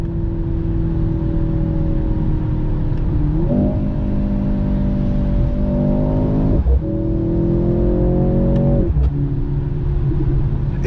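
A 2023 Mercedes C43 AMG accelerates hard from inside the cabin, its engine note rising through the gears with sharp drops at each shift, loud and steady with synthetic-sounding interior tone.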